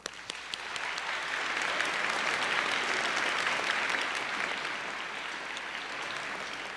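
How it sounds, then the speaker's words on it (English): A high school pops concert audience gives a big round of applause, dense steady clapping from a large crowd that swells and then slowly thins near the end. "so one more huge round of applause."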